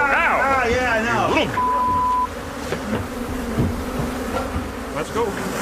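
A swarm of honey bees pours out of a disturbed hive to attack, their loud buzzing whine dense and close, rising and falling throughout while people talk over it.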